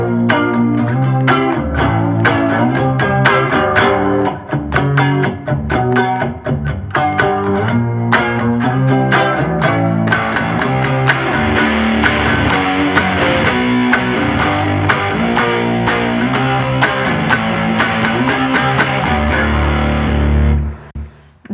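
Heavily distorted electric guitar chords in a grunge style chug on steadily and loudly for about twenty seconds, a thick, saturated tone strummed in rhythm, alone with no talking, ending abruptly.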